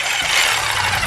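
Corded jigsaw cutting wood, a brief loud burst of harsh, high-pitched buzzing and rasping close at hand, with no voices.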